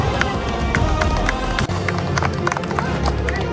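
Loud, continuous clapping from an audience at a Hindu religious society's anniversary and Tamil New Year celebration, a dense roomful of hands with crowd murmur and a low background hum underneath.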